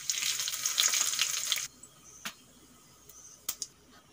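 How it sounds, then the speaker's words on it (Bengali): Cumin, dried chili and two bay leaves dropped into hot oil crackle in a bright, loud sizzle for about a second and a half, then fade to a faint fry broken by a few sharp pops. "এই তেলের মধ্যেই দিয়ে দেব জিরে,"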